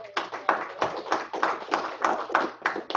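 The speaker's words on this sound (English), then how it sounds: "Now, a round of applause for Brittany." A small group in a meeting gives a round of applause, sparse, distinct claps arriving in an uneven rhythm of roughly three per second, fairly close and moderately loud.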